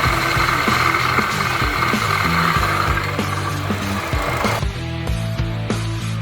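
Honda Brio car AC compressor during servicing, giving a steady rough grinding drone with dense mechanical ticking and rattling throughout, loud and continuous with no talk.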